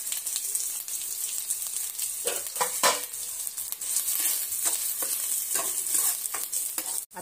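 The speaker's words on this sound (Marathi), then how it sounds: "कांदा ही मस्त असा लाल होईपर्यंत परतून घ्यायचा।" Onion sautéing in a pan with cumin and mustard seeds until reddened, a steady close sizzle broken by scrapes and stirs of a spoon, with no talking throughout.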